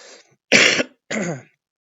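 Two sharp, raspy allergy coughs close to the mic, separated by a short pause, with a faint voice trailing off just before.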